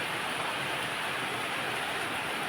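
Rain falls in a steady, even hiss with no break or change in level, filling the whole stretch with no voices.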